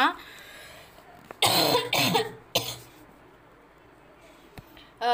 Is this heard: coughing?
yes